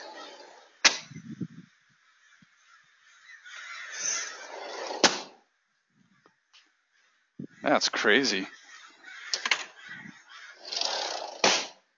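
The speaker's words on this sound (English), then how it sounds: "I got literally a murder of crows over the top of my house right now." A large flock of crows calling above a house, with harsh caws bursting out in clusters, pausing, then returning loudly; someone talks briefly between the bird noise.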